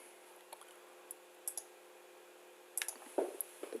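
Light computer keyboard clicks, sparse single taps early on, then a quick cluster of sharper keystrokes near the end, close and quiet against a near-silent room.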